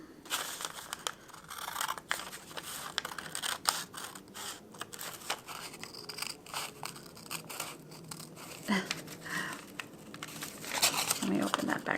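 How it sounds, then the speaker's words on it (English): Scissors cut through folded origami paper for a holiday wreath, giving a series of close, crisp snips and crinkles at an uneven pace, with paper rustling between the cuts. "you're going to cut it right through the middle"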